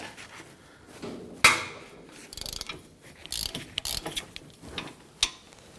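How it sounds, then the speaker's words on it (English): A ratchet fitted with a 17mm socket loosens the brake bracket bolts on a 2017-2020 Hyundai Elantra, giving close, sharp clicking and creaking in uneven bursts, with a few louder cracks as the bolts break free. "Let's go ahead and loosen and remove those. Using a 17mm socket."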